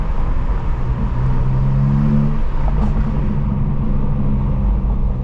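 A 2017 BMW 430i Gran Coupe with a B48 engine rumbles loudly and steadily from inside the car, with its pitch rising and falling through a rev before settling into a constant drone.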